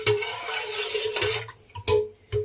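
A spoon scrapes and swirls through a pot of thick chana dal, with clinking strokes against the metal sides, close and fairly loud.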